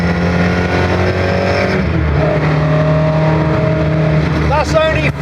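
An MST Mk1 Escort's BDG 2-litre engine breathing through Jenvey throttle bodies, a loud, raw rev that climbs and wavers, with harmonics sweeping near the end.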